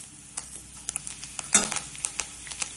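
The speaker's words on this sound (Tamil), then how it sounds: "கடலைப்பருப்பு நல்லா பொரிஞ்சிச்சு." Chana dal frying in hot oil in a pan while being stirred, with a soft continuous sizzle and scattered spoon scrapes and taps, one louder stir about midway.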